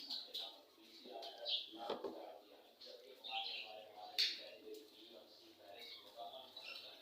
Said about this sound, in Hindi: ये तोते अभी तक जाग रहे हैं, जो आपको मेरी वीडियो में इनकी आवाज़ें आ रही होंगी